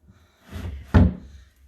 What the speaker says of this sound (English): I'm going to open this drawer.